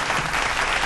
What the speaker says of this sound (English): So a big round of applause for that